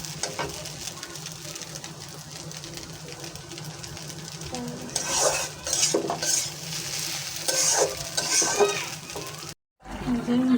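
Noodles cook in a pan and are stirred, giving a steady low sizzle with louder bursts of scraping and clinking in the second half, then a brief drop to silence near the end.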